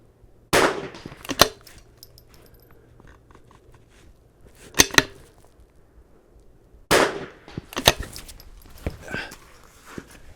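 Rifle shots at steel targets during an NRL22 .22 rifle match course of fire on an outdoor range: sharp cracks with metallic rings, in clusters of two or three separated by quiet pauses, with faint background noise.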